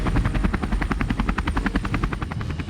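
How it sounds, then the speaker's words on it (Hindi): An MH-60 Romeo Sea Hawk naval helicopter drones loudly overhead, its rotor blades chopping in a fast, even beat over a constant engine whine with no voices. "जल्द ही MH-60 रोमियो सी हॉक हेलीकॉप्टर हिंद की हिफाजत करता नजर आएगा।"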